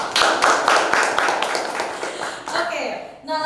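A few people clap in quick bursts during a casual podcast conversation, sharp close taps that fade out near the end as a voice starts talking.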